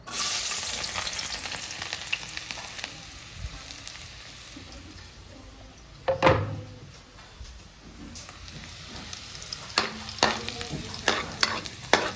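Freshly caught pangilaw seafood frying in a pan, a steady close sizzle with bursts of stirring and scraping clatter, louder scrapes near the middle and toward the end, no voices.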